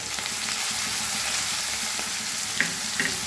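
Spice paste frying with mixed radish and other vegetables in a pan for a Bengali labra, a steady close sizzle with faint stirring scrapes and two brief clinks near the end.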